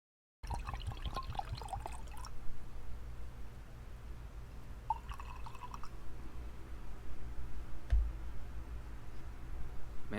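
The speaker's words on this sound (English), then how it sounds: "Alright, let's get a pour on this." Mead being poured into a honeycomb-shaped glass, starting with a splashy trickle, then a quieter steady pour with faint drips and a small clink, close and gentle, no talk.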